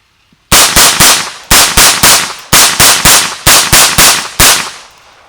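Rapid semi-automatic fire from a Guncraft .22 Magnum AR15-style rifle: about fifteen loud, close, sharp reports in quick groups of three or four, each with a short ringing tail, ending abruptly when the magazine runs dry.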